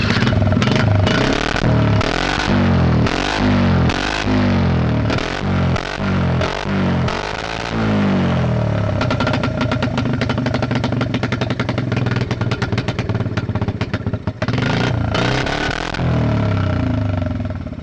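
A cheap, long-abandoned Honda three-wheeler engine is cranked in loud, rhythmic bursts, then catches and runs with a rough, rattling, uneven clatter, close up and alone.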